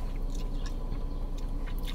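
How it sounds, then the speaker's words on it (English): Close, loud chewing and biting of food, a steady run of wet crunching mouth sounds over two seconds with no talking. "You're chewing very loud because I can hear."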